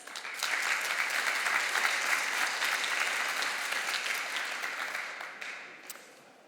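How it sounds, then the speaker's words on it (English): A conference crowd at PyData Amsterdam 2023 claps for presenter James Powell: a strong, even burst of many hands that holds steady, then tapers off toward the end. "So a round of applause for James"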